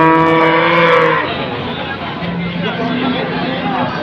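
A Doro cow at the Pasar Pon livestock market in Jaken, Pati, gives one loud, close moo lasting about a second. Market crowd chatter and someone speaking follow.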